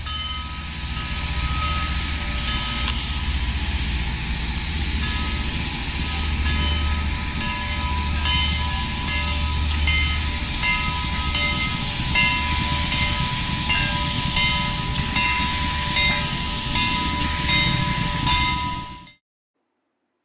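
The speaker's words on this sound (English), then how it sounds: "4501 shoved the train back to East Chattanooga" Steam locomotive 4501 shoves a train back toward East Chattanooga, giving off a continuous loud hiss with rumbling wheels and rhythmic clanks, steady throughout before an abrupt cutoff.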